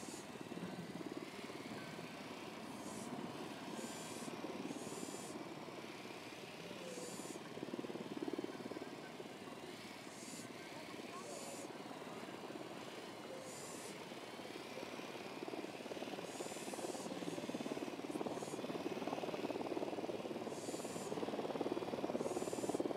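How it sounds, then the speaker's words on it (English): A drone hovers in the video game Ghost Recon Wildlands, giving a steady aircraft-like whirring drone with brief higher buzzing swells repeating every few seconds, gradually growing louder toward the end, with no talking. "Deploying drone."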